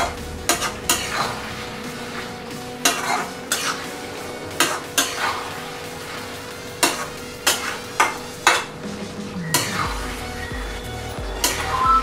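Potol chingri, pointed gourd and prawns, stirred in a pan with a metal utensil, sharp clanks and scrapes every second or so over a steady close sizzle, loud and without talk.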